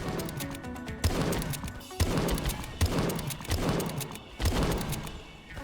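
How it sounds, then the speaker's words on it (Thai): Gunfire in the Roblox game Sentinel, with a shotgun firing loud, heavy blasts at a steady pace of roughly one per second, each followed by a short decaying boom. "ไอ้บีได้ปืนหลักไปแล้วเป็นช็อตกัน"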